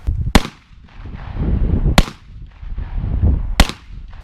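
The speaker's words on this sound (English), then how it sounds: "So we'll start with our 9mm, and the ammunition we'll use is the Federal 115 grain jacketed hollow point, and we'll shoot from 7 yards." Three sharp, loud 9mm pistol shots fired with Federal 115 grain jacketed hollow point rounds at an outdoor range from 7 yards, spaced well apart, each cracking hard with a short echo and a rumbling background between them.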